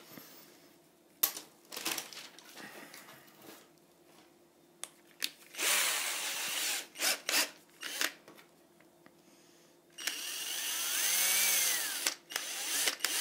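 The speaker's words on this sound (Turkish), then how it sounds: "Biz içindeki tekrardan delelim." A power drill bores a hole through a wooden part of a model airplane, whining in short bursts with pauses and small handling noises between them.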